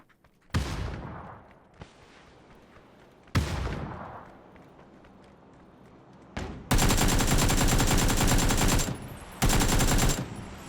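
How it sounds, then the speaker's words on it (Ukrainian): Automatic and single gunshots in PUBG on Erangel, in separate loud bursts with gaps between them, the last bursts sustained and rapid, with no talk over them. "По мені стріляють, чи по тобі."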